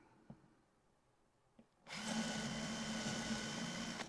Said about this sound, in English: I'll drill some holes.